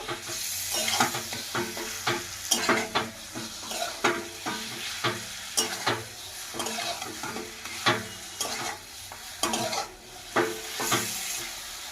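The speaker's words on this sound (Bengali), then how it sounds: "এবার এর মধ্যে ভেজে রাখা চিকেন দিয়ে দিচ্ছি দিয়ে মশলার সঙ্গে চিকেনগুলো আমি মিশিয়ে নেব" Fried chicken pieces stirred into cooked-down spice masala in a pan: a continuous sizzle broken by regular scraping and clattering spatula strokes roughly every second, close and fairly loud, with no talking.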